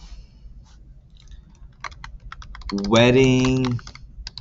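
Light, scattered keystrokes on a computer keyboard while entering text in an Excel spreadsheet, close and fairly quiet, followed by a short spoken word near the end.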